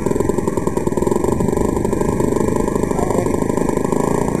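Monster P-47 model airplane engine buzzing steadily at high revs, a loud, continuous nasal whine with a rapid clattering pulse and no break over the few seconds.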